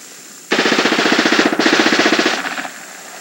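A loud, rapid burst of machine-gun fire, roughly two seconds of fast, evenly spaced shots with nothing else heard.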